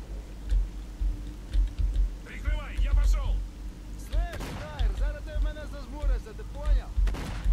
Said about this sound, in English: Grenades going off.